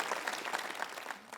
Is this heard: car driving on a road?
no